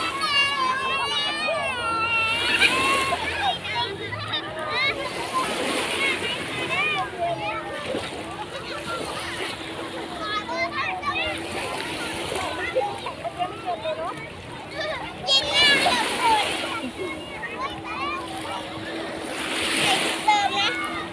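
Sea water splashes as children play in the sea at Bang Saen beach, with steady surf and frequent splashes under continuous chatter from children and adults nearby.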